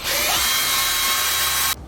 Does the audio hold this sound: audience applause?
no